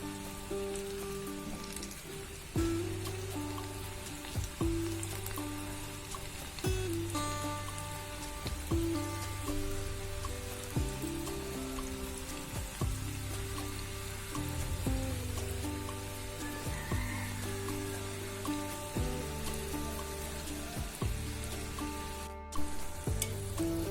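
Small portions of coriander vadi deep fry in hot oil with a continuous bubbling crackle like light rain. Steady faint tones and clinks run under the sizzle, and nobody speaks.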